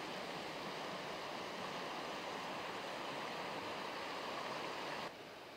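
Water pouring steadily through a mill spillway back into a river, a dense continuous broadband rush, loud and close with no voices, holding steady before dropping slightly in level near the end.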